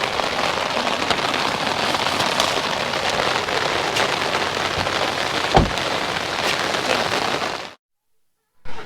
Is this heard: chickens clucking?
no